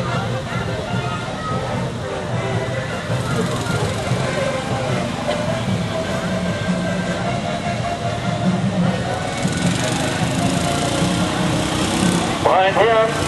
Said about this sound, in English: And that Farmall has a Ford engine.